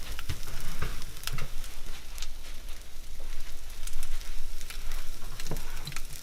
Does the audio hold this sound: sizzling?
yes